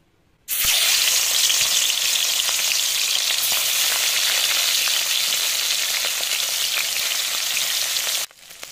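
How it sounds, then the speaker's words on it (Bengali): Tangra fish dropped into hot oil in a kadai bursts into a loud, dense, continuous sizzle that starts abruptly and holds steady before cutting off, close up with no talking. "তেলটা গরম হয়ে গেছে, এবার মাছগুলো একে একে ছেড়ে দেব।"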